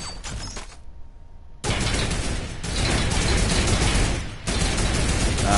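A gun turret fires in a shooter video game, with loud bursts of rapid gunfire broken by short pauses and a brief quieter stretch between volleys.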